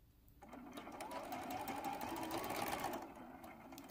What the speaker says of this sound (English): We'll just sew right off the edge.